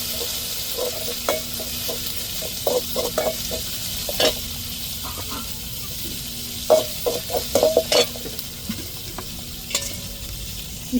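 Ginger and garlic fry with curry leaves in a pan, giving a steady soft sizzle broken by clicks and scrapes as a spoon stirs them, with no talking.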